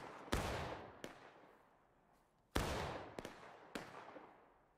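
Musket and smoothbore rifle shots ring out in a video game battle as sharp, loud reports. They come singly and in small clusters, and each blast rumbles away slowly before the next one fires.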